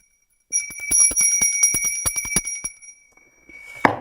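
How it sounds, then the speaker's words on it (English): A bell is rung rapidly, a fast, sharp metallic ringing with a steady high tone that lasts about two and a half seconds, then stops, followed by a brief rustle. "Go on, ring that bell, Chris Beecham."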